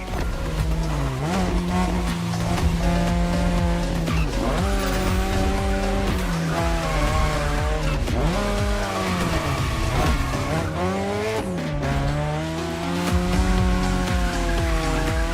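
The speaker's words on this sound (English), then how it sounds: "You gotta drift through these, Shingo." A Mazda RX-7 in The Crew Motorfest racing game screeches its tires through a drift, a loud, continuous squeal that wavers in pitch over a high-revving rotary engine note.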